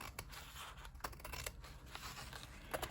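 Scissors cutting handmade paper, giving quiet, close snips and crisp rustles at an irregular pace with no voices present.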